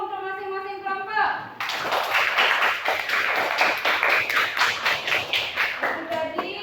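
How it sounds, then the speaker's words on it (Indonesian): Classroom applause for each presenting group breaks out after a brief voice, a dense burst of many hands clapping that settles into a loose, rhythmic patter before fading. "Ya, tepuk tangan dulu untuk masing-masing kelompok."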